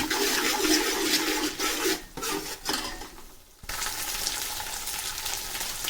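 Spice paste sautés in hot oil with a continuous close sizzle and crackle, broken by brief stirring pauses and dips before the frying noise resumes at full strength.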